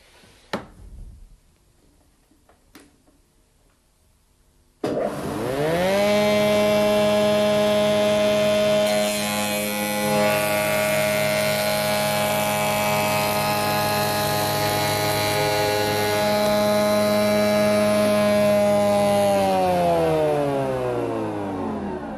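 A spindle moulder runs up to full speed with a loud, steady whine and hum while cutting wood held in a jig with toggle clamps, then holds an even, sustained tone and begins to slow near the end.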